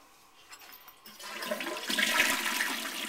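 Toilet flushing in a household bathroom, starting with a soft trickle and swelling into a rushing gush of water that fills the closing seconds, fairly quiet and heard alone without talk.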